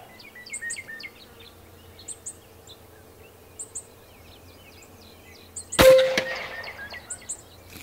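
An Evanix Tactical Sniper air rifle fires once offhand at a target 75 yards downrange outdoors: a single sharp crack that decays quickly, amid birds chirping and tweeting around it.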